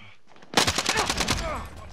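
Rapid bursts of automatic gunfire in the video game Call of Duty Warzone, a loud rattling fusillade lasting about a second before trailing off.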